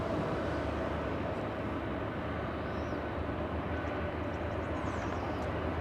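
An airliner bound for Hawaii begins rolling at LAX, giving off a steady, distant jet engine drone with a faint whine. It stays even and unbroken throughout, without voices.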